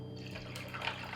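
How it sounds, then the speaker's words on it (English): Cocktail mixture poured into a mixer, a brief soft trickle and splash of liquid with a few drips, close and quiet, ending in a slightly brighter spatter. "So I'm just gonna pour a little bit of this into my mixer."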